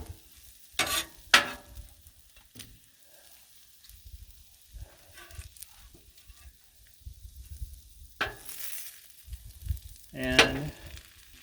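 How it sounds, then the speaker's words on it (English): Vegetables and bacon on a griddle, a faint frying crackle under scattered scrapes and clanks of a spatula, loud bursts at moments with quieter stretches between, no talk. "So now we can start mixing in a little bit of"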